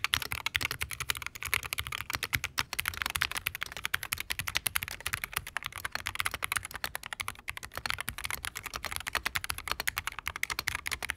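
Steady, rapid typing on a Wooting 60HE+ mechanical keyboard, a dense run of close, crisp keystrokes clattering continuously with no talking.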